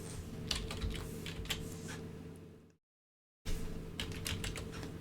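Typing on a computer keyboard while setting up a featured item on the Odysee platform, with steady, fairly close clicking keystrokes and a brief silent gap partway through.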